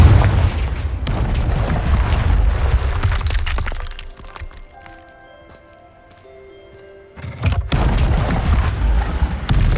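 A Confringo spell blast in Hogwarts Legacy, heard as loud crashing, shattering bursts that fade to a quiet stretch of ringing tones before another heavy eruption of impacts.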